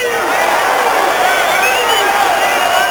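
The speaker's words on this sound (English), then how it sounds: "Crowd starts to get interested." Boxing arena crowd during a heavyweight bout, a steady dense murmur of many voices with scattered shouts swelling gradually louder over a few seconds.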